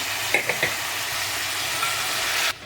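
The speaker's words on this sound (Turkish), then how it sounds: "Kerevizlerimin de diriliği gidene kadar kavuracağım." Carrots and celery sautéing in a soup pot give a steady, close sizzle, with a few quick clinks early on, before the sound cuts off abruptly at the end.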